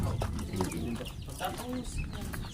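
Chickens and fighting roosters cluck and call at a farm among pigs and rabbits, fairly faint and mixed with background noise and some voices, with no clear full crow.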